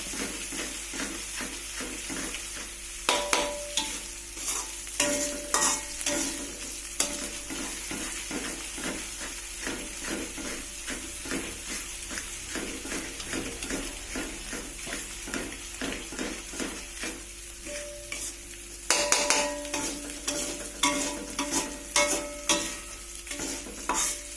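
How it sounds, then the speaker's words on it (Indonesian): Spice paste frying in a pan over the heat is stirred steadily with a utensil, giving a continuous close sizzle and regular scraping strokes with no talk. "aduk-aduk guys sampai kering ya, bumbunya benar-benar kering."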